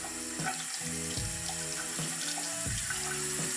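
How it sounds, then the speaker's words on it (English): A makeup brush being rinsed under a running tap makes a close, steady stream of water spattering into a sink, with the splash pattern shifting as the brush moves through the flow. No one talks. "I'll rinse this off. Rinse the brush off a little more."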